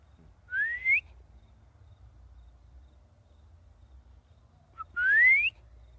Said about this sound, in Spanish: Vamos a silbar porque a ver si nos contestan.